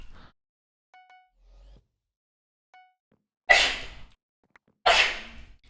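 Two loud, sharp sneezes in close succession near the microphone, each a sudden burst, separated by about a second of quiet and preceded by a few faint electronic tones.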